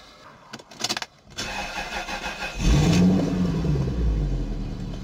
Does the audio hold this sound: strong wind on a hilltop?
no